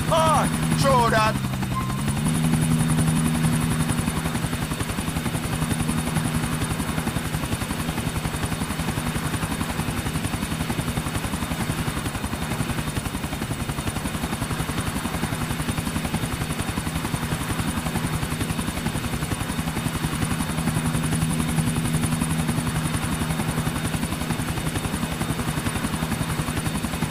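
Helicopter in Grand Theft Auto flying continuously with a steady rotor drone and engine hum throughout, loud and close, with brief game voices near the start.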